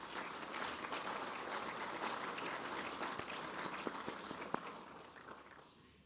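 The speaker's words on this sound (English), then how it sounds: "can we give our sponsors a round of applause" A room of listeners at a mining club event gives its sponsors steady, even applause that is fairly soft and distant and tapers off near the end, with no talking over it.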